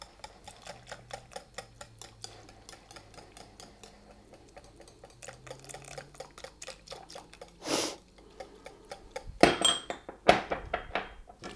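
Spoon stirring a cup of 1% low-fat cultured buttermilk into a low-fat ranch dressing in a bowl, heard as a steady run of light rhythmic ticks and clinks, with a couple of louder knocks near the end.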